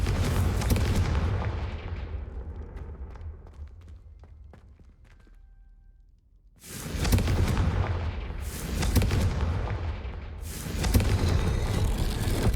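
Spell blasts from the Confringo fire spell in the video game Hogwarts Legacy, a series of loud booming explosive bursts separated by short gaps, with a quieter rumbling stretch in between.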